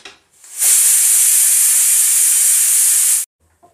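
A pressure cooker cooking chickpea greens on a gas stove lets out one loud, sustained hissing whistle of steam for a few seconds, starting and stopping abruptly.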